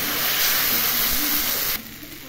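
Loud, close hiss and sizzle as water hits turmeric and spices frying in a hot pan for mashkalai dal tadka, a steady broadband rush that drops off sharply near the end.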